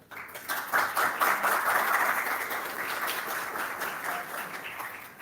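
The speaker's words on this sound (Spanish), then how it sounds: "a quien pedimos por favor un fuerte aplauso" A university audience breaks into sustained applause, many hands clapping steadily for several seconds before slowly tapering.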